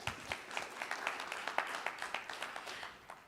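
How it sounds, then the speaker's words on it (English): Audience applause at a health conference in Dubai, with a steady patter of many hands clapping at moderate distance that runs evenly for a few seconds and fades slightly at the end. "Let's give him another round of applause,"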